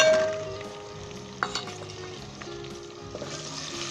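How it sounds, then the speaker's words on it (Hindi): Chopped tomatoes frying with onion, ginger, garlic, cumin, turmeric, red chilli and salt for a white chickpea shorba, a soft steady sizzle broken by a few spoon clinks and scrapes, close-up with no talk. "तो अच्छे तरीके के साथ जब तक हमारे टमाटर बीच में गल के भुन नहीं जाते तब तक हम इसे भुनेंगे।"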